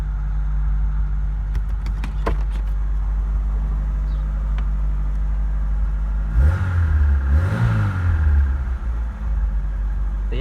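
Opel Manta engine running after a cold start with the choke partly out, a loud close steady idle with a low rumble, then two brief revs that rise and fall before settling back to idle.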